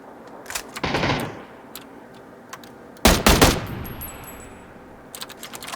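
Bursts of rapid gunfire in PUBG, a short volley then a louder, longer burst, separated by isolated single shots and quiet gaps.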